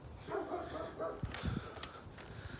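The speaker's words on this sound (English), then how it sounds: "This one has some dogs in the garage. I'm sure you can hear that" Several dogs shut in a garage bark in quick, muffled bursts, faint and somewhat distant, with a bit of yipping mixed in.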